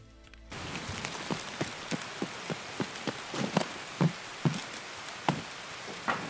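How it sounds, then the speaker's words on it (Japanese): Heavy rain pours steadily in the video game Escape from Tarkov, a dense hiss broken by repeated sharp drip or patter impacts at an irregular rhythm, fairly loud and close with no talking. "ちょっと雨きつすぎるな"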